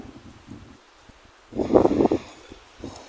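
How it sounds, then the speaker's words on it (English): Wind gusting outdoors in a cold January garden near a greenhouse, a soft rustling rush rising to a louder burst midway before easing off again. "It's just getting a bit windy out here and a bit cold."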